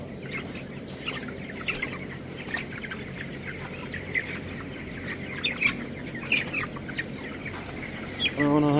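Chickens in a poultry shed cluck and squawk in scattered bursts, several birds overlapping at close to middle distance with steady background shed noise.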